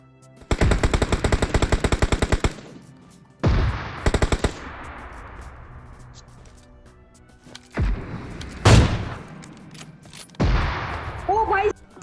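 Gunfire in the mobile game PUBG Mobile: loud bursts of rapid automatic fire alternate with single heavy shots and fading echoes, with brief gaps between volleys.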